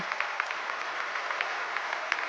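An audience at a Tamil speaking event applauds to welcome a speaker to the stage, with sustained, even clapping from many hands, moderately loud, with no talk over it.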